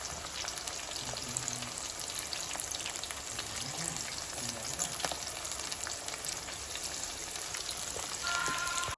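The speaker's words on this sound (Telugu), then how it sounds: "ఉల్లిగడ్డలు పచ్చిమిరపకాయలు ఆయిల్లో మగ్గాలి." Onions and green chillies fry in oil, giving a continuous crackling sizzle like light rain, with occasional soft stirring knocks and a brief swell toward the end.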